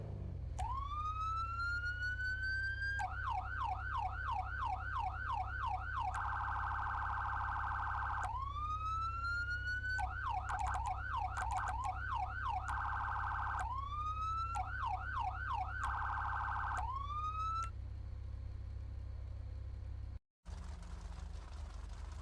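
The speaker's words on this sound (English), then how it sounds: "we'll test out the beautiful sirens. These are American-based sirens, though." Electronic American police sirens in the video game FiveM cycling through wail, yelp and rapid warble patterns, loud and continuous over a low steady hum, ending abruptly.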